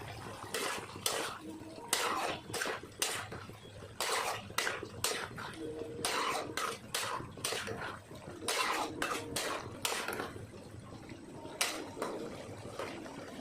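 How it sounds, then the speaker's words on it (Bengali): Pointed gourd, potato and prawns being stir-fried in a pan for potol chingri, with repeated clanks and scrapes of a metal spatula against the pan in a steady irregular rhythm and faint background noise. "এখন পটল আলু আর চিংড়িটা সব একসাথে দিয়ে আর অল্প কষাই"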